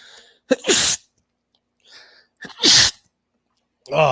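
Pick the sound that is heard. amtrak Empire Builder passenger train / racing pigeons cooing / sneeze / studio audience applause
sneeze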